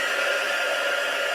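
A hair dryer blows close by with an even, unbroken whooshing roar.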